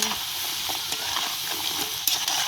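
Tapioca pieces frying in hot oil: a steady, bright sizzling hiss close up, with occasional small pops and stirring clicks throughout.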